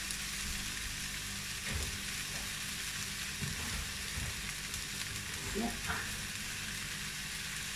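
Onions frying gently in a pan while being stirred, a steady soft sizzle with occasional scraping stirs, close and moderately quiet.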